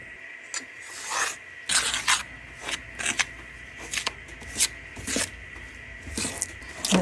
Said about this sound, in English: Whisk it with this fork, which I'll also use to prick the pie crust after I get it spread out.